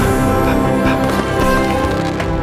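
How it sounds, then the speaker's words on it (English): A full symphony orchestra plays loudly and richly, with dense sustained strings and brass filling the space continuously. "What does an orchestra sound like?"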